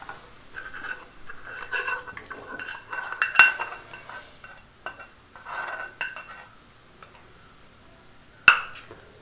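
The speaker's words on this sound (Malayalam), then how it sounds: "ഇനി നമുക്കിത് നമ്മുടെ മോരുകറിയിലേക്ക് ഒഴിച്ച് നല്ലോണം ഒന്ന് ഇളക്കാം." A spoon stirs Kerala moru curry, a buttermilk curry, in a pan after the fried chilli tempering is poured in, giving soft intermittent scrapes and clinks with a sharp metallic knock near the end.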